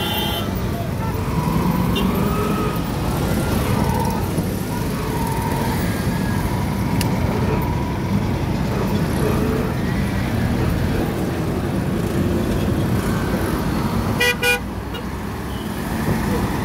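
A car travels on a busy road toward Lagos, Nigeria, with constant traffic rumble around it, scattered horn toots including a sharp burst near the end, and faint voices in the background.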